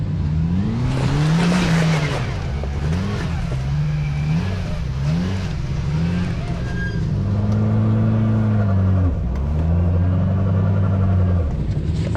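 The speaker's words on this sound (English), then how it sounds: "That's burnout." A Kawasaki side-by-side does a burnout on a snowy, icy trail. The engine roars loudly and continuously as its pitch rises and falls, with tire squeal throughout.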